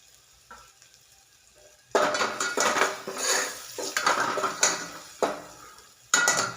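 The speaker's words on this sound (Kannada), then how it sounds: "ಒಗ್ಗರಣೆ ಹಾಕ್ತಾ ಇದ್ದೀನಿ." Spices and onion tempering with turmeric in a pan, a loud crackling sizzle with scraping and clinking of a utensil stirring against the pan, starting after a quiet opening and continuing in bursts to the end.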